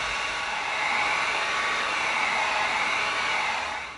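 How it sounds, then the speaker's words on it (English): Heat gun blowing hot air onto EVA foam cut with an X-Acto knife, a steady close airy roar that holds evenly for several seconds before tapering off, with no voices. "now we're going to come in with our heat gun."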